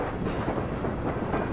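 Train in the video game Syberia rolls past with a steady rumbling clatter of wheels on track, loud and close, continuous with no voices.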